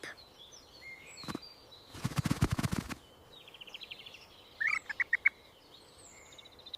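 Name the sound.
bird chirping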